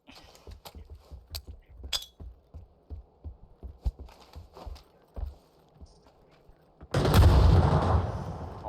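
Gunfire and explosions in the PUBG battle game: a scattered series of sharp shots and thuds, then a loud, sustained blast that rumbles through the final seconds.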